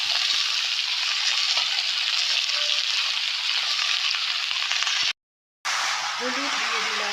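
Vegetables with chili frying in a pan, a loud, steady sizzling hiss that fills the clip, cut by a brief silent gap near the end before the sizzle returns with faint stirring.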